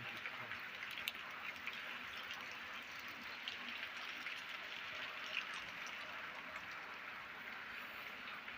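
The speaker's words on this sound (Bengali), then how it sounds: "ভাল লাগছে বৃষ্টি হচ্ছে তো" Rain falling steadily in Malaysia during the rainy season, a soft, even hiss of drops that holds without pause throughout, quiet and fairly distant.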